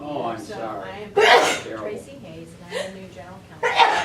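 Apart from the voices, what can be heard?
sneeze during a meeting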